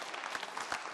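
A short burst of audience applause at a Power of 10 2014 talk, dense clapping from a crowd, fairly faint and distant, with no voices over it.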